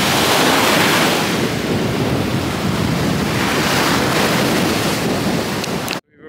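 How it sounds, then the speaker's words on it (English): Strong wind and rough surf on a beach in the Philippines roar loud and close, a dense continuous wash of crashing waves and buffeting wind noise that cuts off abruptly at the end. "But it's so much rougher and windy here"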